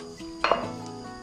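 Chopped dry onion and a garlic clove are tipped into a cooking pot for sautéing, a brief close clatter of metal and food landing in a quiet kitchen.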